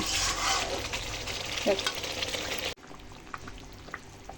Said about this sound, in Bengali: এটা প্রথমে কড়াইতে দিয়ে এখন এটার কাঁচা গন্ধটা আমি মজিয়ে নিচ্ছি